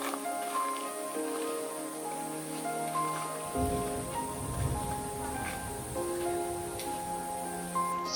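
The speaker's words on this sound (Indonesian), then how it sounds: "Sekitar jam 12, hujan turun sangat deras." Heavy rain pours steadily on a mountain hiking trail on Mount Raung, a dense continuous hiss with a deeper drumming wash that swells partway through, with no talking.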